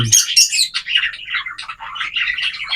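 A yellow-face cockatiel hen gives a run of bright, close chirps and short calls in quick succession, loud and clear with nothing behind them.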